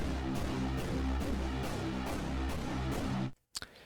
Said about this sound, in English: Then kind of a pulsing sound.